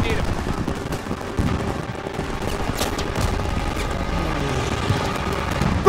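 Sustained gunfire in a Call of Duty WWII assault on towers and a Rhine bridge, dense rapid machine-gun bursts and scattered shots with distant booms, loud and continuous, with faint voices underneath.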